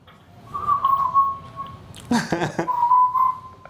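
A person whistles a sustained tune nearby, broken briefly by a short burst of talking before the whistling resumes.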